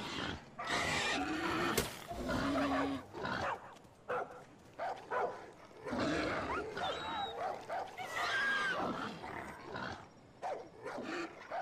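A dog in Far Cry New Dawn, the one to be petted, makes soft whimpers, snuffles and yips up close, mixed with game ambience and a speaking voice.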